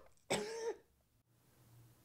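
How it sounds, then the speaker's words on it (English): One sharp, close cough, a single throaty burst lasting under half a second, followed by quiet. "Coughing."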